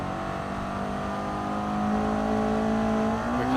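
Toyota MR2 engine in GT Sport revving hard under full throttle, a steady loud drone with rising pitch as the car accelerates, no talk.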